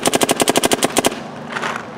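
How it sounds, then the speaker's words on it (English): A Dye M3+ paintball marker fires a fast string of about eleven semi-automatic shots, each a crisp close pop in quick even rhythm, then the chatter stops and a softer hiss lingers. "Let's do one shot at a time, make sure it's actual semi-auto."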